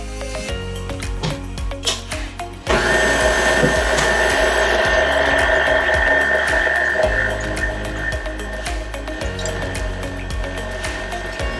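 An electric hand mixer beats eggs into cake batter for a coconut blood orange cake, starting abruptly as a loud, steady whir with a rattling, scraping texture and running continuously to the end.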